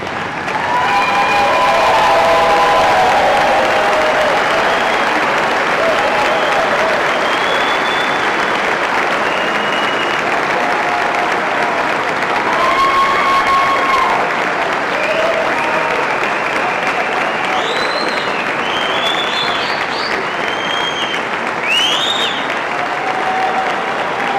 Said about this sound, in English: please rise and give a round of applause to the graduates of 6th Platoon